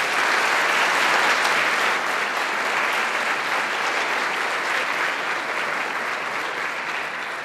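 A theatre audience breaks into sustained, dense applause, a full crowd clapping evenly and loudly throughout with no pause.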